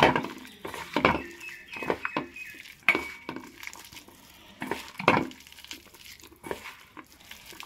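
Soaked panta bhat rice is mixed by hand with a little water in a bowl, giving scattered close clinks, soft squelches and rustles in an irregular rhythm with pauses, no talking.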